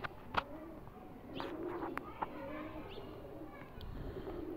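A female Kasuri pigeon coos softly nearby, low rolling calls rising and falling over faint background hum, with a couple of sharp clicks and brief chirps scattered through.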